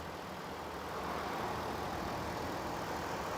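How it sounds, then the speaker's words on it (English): A 2017 Lexus RX 350 engine idles with the hood open, a steady, even hiss-like hum with no changes in pitch. "that engine is ticking away smoothly at idle."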